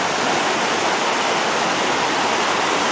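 A stream rushes where it flows into a small river beside a campsite at Melkevoll Bretun in Norway. The close, loud, unbroken roar of water carries on throughout with no voices.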